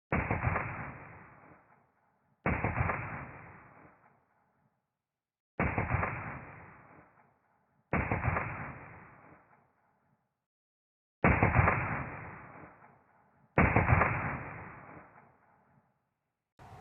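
Pistol fire from a Glock 19 and a Sig Sauer P365 XMacro, six sharp loud single shots spaced a couple of seconds apart, each with a short decaying echo, heard alone without speech.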